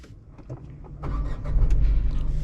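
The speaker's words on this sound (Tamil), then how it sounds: "டாட்டா நெக்ஸானில் நீங்கள் நியூட்ரல் போட்டுட்டு பிரேக்கில் காலை வச்சுட்டு ஸ்டார்ட் பண்ணிங்கன்னா ஸ்டார்ட் ஆகும் பாருங்கள்" A Tata Nexon automatic car, in neutral with the brake held, cranks with a few light ticks before the engine catches and settles into a steady low idle rumble, close by.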